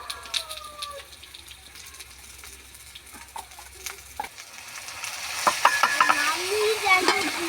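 Fried potatoes get stirred in a pan while spices are added, with scraping and clinking of a utensil over a light sizzle that grows busier and louder toward the end.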